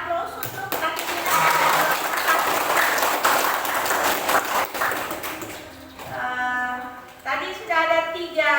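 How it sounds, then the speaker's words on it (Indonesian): Students in a classroom clap in applause for several seconds, a dense patter of many hands, and then children's voices rise and overlap as the clapping dies away. "tolong kasih aplaus untuk kaki kita"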